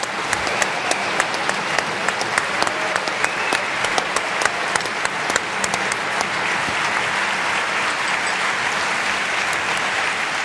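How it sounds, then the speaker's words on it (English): A large audience at a conference closing ceremony gives sustained, dense applause, loud and steady throughout with a few sharper individual claps standing out. "a round of applause, please."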